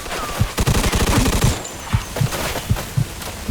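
Sustained machine-gun fire in Mafia II: Definitive Edition rattles on throughout, with sharp, regularly spaced shots over a constant background of game noise.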